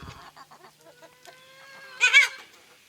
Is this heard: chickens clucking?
yes